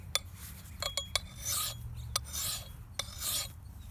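A metal file rasps along the blade of a Boy Scout axe in repeated strokes, sharp scrapes and longer rubbing passes, close and quiet with no voices.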